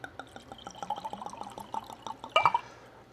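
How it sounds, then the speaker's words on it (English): Red wine is poured into a glass in a steady gurgling, rhythmic stream, close and clear, finishing with a brief louder splash and clink near the end. "So I'm gonna pour a little glass."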